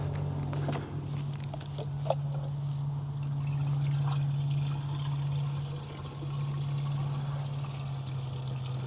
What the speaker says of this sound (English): It's actually sounding like it's filling up fairly quick too, so it's going to be enough to start it.